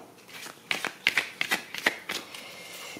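Tarot cards being shuffled and drawn, heard as a quick series of soft close riffling snaps and slaps, fairly quiet and heard alone.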